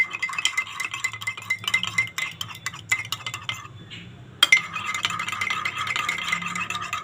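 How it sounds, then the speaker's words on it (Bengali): Three eggs with a little salt are beaten in a cup, a steady run of quick clinking, rattling strokes of utensil against the cup, close and busy, with a brief pause partway through. "প্রথমে 3টে ডিম কাপের মধ্যে নিয়ে নিয়েছি, নিয়ে সামান্য পরিমাণ নুন নিয়েছি, নিয়ে এগুলোকে একটু ফাটিয়ে নিচ্ছি"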